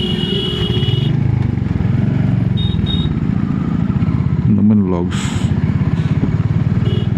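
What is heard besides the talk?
Royal Enfield Hunter 350 motorcycle engine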